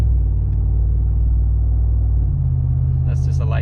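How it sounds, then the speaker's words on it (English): A 2019 Ram 1500 with the muffler deleted, cruising at around 50 mph under light throttle, gives a loud, steady low exhaust drone that shifts pitch partway through, with a voice speaking near the end. "That's just a light touch on the accelerator"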